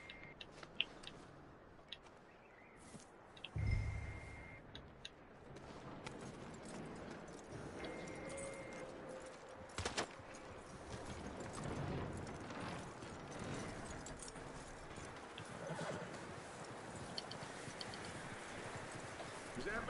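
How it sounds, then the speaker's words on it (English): Horse hooves clip-clopping in Red Dead Redemption 2, a steady rhythm of steps running through the whole stretch at moderate level with game ambience around it. "That looks like a decent horse."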